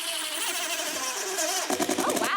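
A power drill drives a drywall anchor straight into a wall where there is no stud, giving a steady high-pitched whirring buzz that shifts near the end into choppier bursts as it bites in. The sound is close and loud, with no voices.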